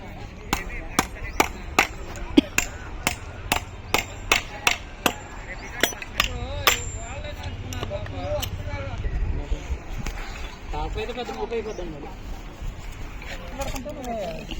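Masons hammer in a rapid series of sharp, evenly spaced blows while building a stair landing, about a dozen loud strikes before the pounding grows looser and mixes with ongoing talk.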